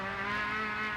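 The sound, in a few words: touring car sliding sideways, Greg Hansford's ANZ car, Lakeside 1989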